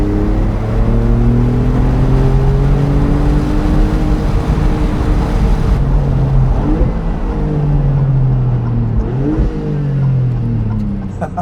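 Loud, continuous engine drone and exhaust roar from a Maserati MC20 sports car, roof open, rising and falling in pitch as it accelerates, heard from inside the moving car.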